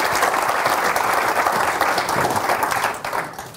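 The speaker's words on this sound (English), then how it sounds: "Round of applause, please, cool." A tech meetup crowd gives a brisk round of applause, clapping densely and close for about three seconds before it quickly dies away, with no talking over it.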